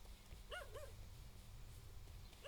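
Dogs in the Hades II video game give a few short barks and yips in a quick cluster, faint against a low game background rumble.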